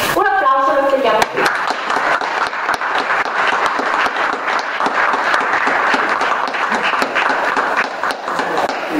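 An audience at a comics convention press conference in Rome applauds loudly and steadily, dense clapping from many hands filling the room, with a brief cheer or voice near the start.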